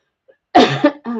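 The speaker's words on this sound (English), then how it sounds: "Sorry if I've coughed" A single loud, close cough, harsh and breathy, followed by a short voiced throat sound, then silence.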